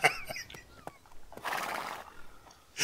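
A horse whinnies in a short wavering call, followed by a burst of breathy noise and a few soft knocks, moderately quiet.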